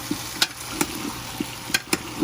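Sweet potato curry sizzles in a pan on high heat, a steady close fry punctuated by sharp clicks and taps of a utensil stirring against the pan.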